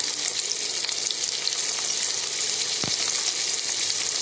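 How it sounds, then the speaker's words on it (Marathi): Chopped onion fries in a pan until golden brown for a spiced rice khichdi. It makes a steady, close sizzle with a single sharp clink of a stirring spoon partway through, and no one speaks. "मी चांगलं भाजून घेते ह्याला अगोदर कांद्याला कांदा चांगला गव्हाळ भाजायला"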